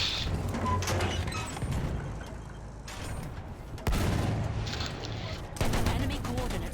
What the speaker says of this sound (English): this sniper rifle is so fucking good